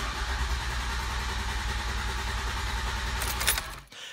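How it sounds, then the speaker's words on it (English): A Ford engine with low compression cranks with the accelerator pedal floored, giving a steady, even rhythmic churning for about three seconds. A brief sharp clatter follows, then the noise cuts out abruptly. "And then we come up here and we can just start cranking."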